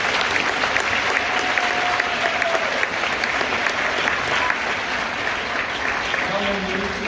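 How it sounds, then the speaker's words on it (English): An audience at a school awards ceremony for 7th to 11th graders claps steadily throughout, a dense, even wash of applause with a few voices faintly mixed in. "Let's give our All-A students a round of applause."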